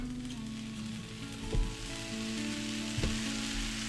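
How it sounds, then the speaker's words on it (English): Buttered bread sizzles steadily in a frying pan at a home breakfast stove with sausage cooking alongside, a continuous close crackle with a couple of brief clanks from the pan. "You can hear that sizzling."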